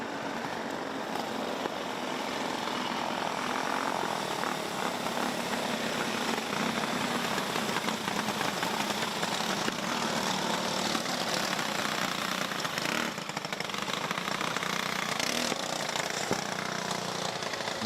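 Junior 1 Yamaha class racing karts at Forks Karting Speedway rolling onto the track, a steady blended drone of several small engines holding at a constant moderate level throughout, with no clear passes or pauses.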